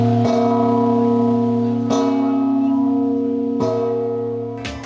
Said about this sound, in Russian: Всего на звоннице Вознесенской церкви теперь 12 колоколов.